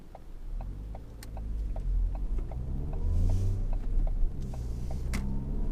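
A 2017 Ford Fiesta 1.25 Zetec engine labours up an incline, heard from inside the cabin as a quiet low rumble that builds slightly, with faint repeated ticking.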